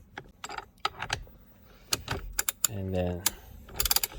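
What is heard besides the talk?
ratchet with 19mm socket and extension loosening steering wheel nut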